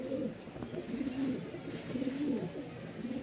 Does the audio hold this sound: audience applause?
no